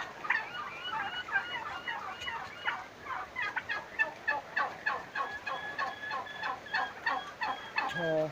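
Turkeys on a turkey farm gobble repeatedly in rapid rattling bursts, several birds calling over one another at moderate distance, with no speech.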